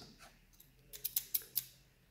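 Scissors snip through paper while cutting out a snakes and ladders paper craft, giving four or five quick crisp snips close by in a quiet room.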